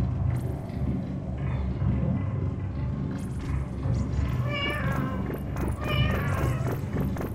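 Cats meow in the video game Animal Well: a couple of clear, high, drawn-out meows in the latter half, heard over a low, steady in-game rumble and ambient background.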